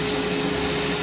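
Steady, loud whir of a Bissell Bark Bath vacuum sucking dog hair out of a rug, an unbroken close motor hum with a thin whine on top and no voices.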